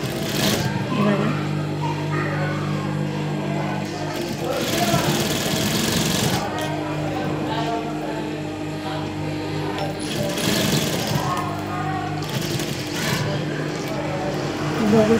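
A sewing machine stitches a border onto net fabric in rapid, steady mechanical bursts separated by short pauses, with someone talking over it throughout.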